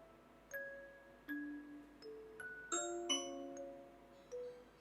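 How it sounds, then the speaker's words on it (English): A soft video game doorbell chime plays as a gentle melodic run of separate bell tones, each ringing out briefly, quiet and with no voices. "Oh, that was the doorbell."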